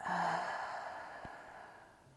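A single long, full exhaled breath during an exercise routine, close and soft, tapering off over about two seconds.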